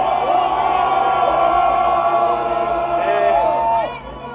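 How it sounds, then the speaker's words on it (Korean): A large crowd of marchers at a candlelight street rally shouts together in sustained, loud unison, with rising and falling collective cries, fading slightly at the end. "함성 다시 한번 힘차게 외치겠습니다"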